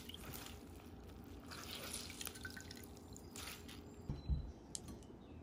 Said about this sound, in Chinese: 腐竹泡好以后，记得把里面的水分转干